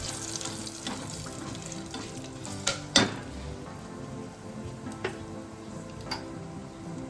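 Dry spices, black pepper, cloves, asafoetida, dried red chillies and bay leaf, tempering in hot oil for chana dal and rice khichdi, sizzle steadily while being stirred, with a few sharp clinks of the spoon against the pot.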